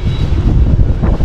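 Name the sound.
strong wind blowing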